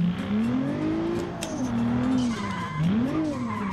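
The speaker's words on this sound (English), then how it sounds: "As you can hear, this has the default V6 engine sounds for automation exports" Default V6 engine sound of a car in the video game Automation, revving up and down in smooth rising and falling sweeps, loud and close, with tire-squeal-like tones.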